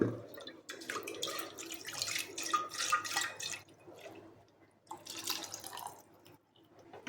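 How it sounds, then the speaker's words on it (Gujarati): Water poured into a pressure cooker holding a little cooked dal, then swirled around, with splashing, trickling pulses that come and go at low volume. "કુકરમાં દાળ થોડી છે એટલે આપણે એમાં થોડું પાણી નાખીને હલાવીને"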